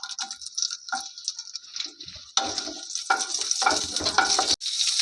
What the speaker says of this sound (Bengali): সর্ষের তেলের মধ্যে কাঁচা লঙ্কা, শুকনো লঙ্কা দিয়ে দেবো